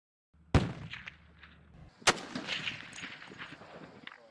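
Live-fire rifle shots during special forces training on a cold, high-altitude plateau in harsh weather: two loud, sharp cracks a second and a half apart, each followed by a long rumbling echo.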